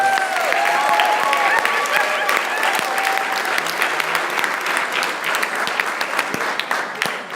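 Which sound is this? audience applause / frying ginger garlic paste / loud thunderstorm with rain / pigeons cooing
audience applause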